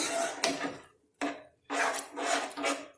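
Khichdi being stirred with spices in a pot: close, scraping strokes of a spoon through thick mixture, coming in several bursts separated by short pauses.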